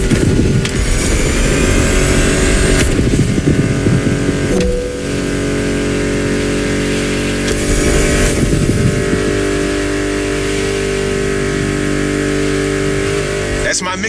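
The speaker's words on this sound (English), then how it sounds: "Meshes well with the sound of the engines" Car engines roar and rev in The Crew Motorfest, a loud sustained drone with shifting pitch and gear changes layered over a backing music track.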